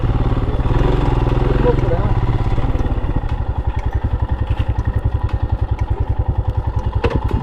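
A motorbike climbs a hilly mountain road between Siliguri and Kurseong, its engine chugging loudly and close in a steady, rapid pulse throughout, with no voices over it.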